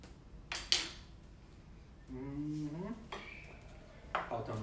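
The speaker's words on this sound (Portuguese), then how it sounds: "eu vou pegar a frigideira pra gente ir mexendo nesse alho poró" A frying pan picked up and handled in a home kitchen while cooking leeks, with sharp metallic clanks and scrapes, a short tonal ring in the middle, and faint background hiss, fairly quiet overall.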